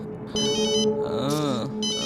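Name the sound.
mobile phone ringtone, incoming call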